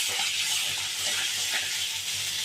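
Ten small shallots and four garlic cloves sauté in hot oil with spluttering cumin seeds for pumpkin idli sambar, giving a steady, close, bright sizzle that holds evenly throughout with no talking.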